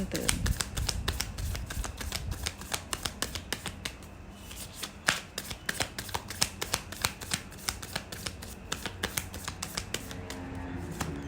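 Oracle cards being shuffled for a reading, a long run of rapid, close riffling flutters and crisp snaps that continue steadily, with someone talking quietly at times.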